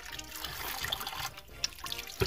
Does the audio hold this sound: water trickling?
yes